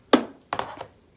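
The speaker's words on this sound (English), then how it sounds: "I'm just going to use the rotary cutter." A rotary cutter slices through fabric for a beginner's sewing project of potholders, giving three short, close, crisp scraping strokes in quick succession.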